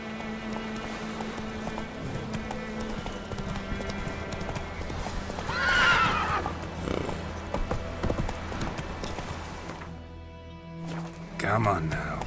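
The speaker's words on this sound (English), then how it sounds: "Whoa there, Roach." A horse in The Witcher 3 clip-clops at a steady pace with a clear whinny partway through, heard beneath a voice and game ambience, ending with a brief pause and a few louder hoofbeats.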